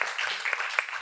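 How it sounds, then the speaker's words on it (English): Audience at a film festival press conference applauding, a brief burst of dense clapping from a crowd, fairly close and steady. "please give these amazing ladies a huge round of applause"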